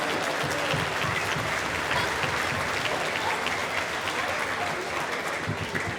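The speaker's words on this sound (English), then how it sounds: "So let's give them a huge round of applause." Steady applause from a large audience at a school band concert, a dense wash of clapping that holds evenly throughout without a break.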